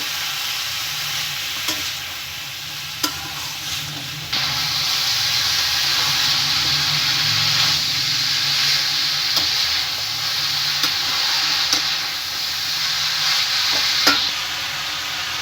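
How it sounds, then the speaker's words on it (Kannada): Kohlrabi, carrots and beans stir-fry in a pan without water, giving a steady close sizzle with scraping stirs and occasional sharp clicks, the hiss growing louder partway through. "ಈಗ ಹಂಗೆ ಫ್ರೈ ಮಾಡ್ಕೋಬೇಕು."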